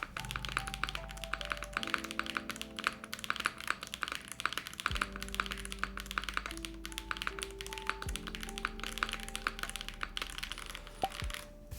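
Typing on a Frost TKL mechanical keyboard fitted with PBT keycaps: quick, close, irregular keystroke taps and clacks over a low background hum, with no talking.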